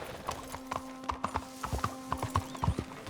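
Steady clip-clop of horse hooves trotting at an even rhythm in the video game Red Dead Redemption 2, with a brief whinny, set over a faint sustained tone and ambient background.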